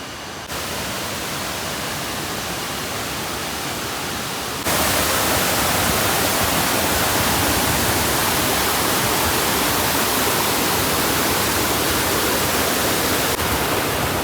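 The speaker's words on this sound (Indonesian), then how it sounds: "Pertemuan dengan air terjun Lewu Secepit di Kabupaten Kendal, Jawa Tengah." Steady broadband roar of Curug Lawe Secepit waterfall at the foot of Mount Ungaran in Kendal, Central Java, heard alone and close. It holds even for a few seconds, then swells noticeably louder and stays dense and unbroken.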